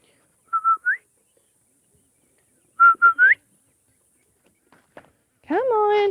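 Short rising whistles call a dog on a storm-damaged farm, two sets of three notes, followed by faint footsteps and then a brief bit of speech close by.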